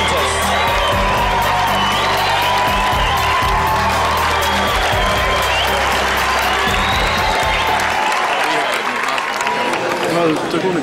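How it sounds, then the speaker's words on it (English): A crowd at a body fitness contest applauds and cheers for the contestants, with loud sustained clapping, whoops and shouts over a thumping music bed that drops out near the end. "Ladies and gentlemen, round of applause for our contestants"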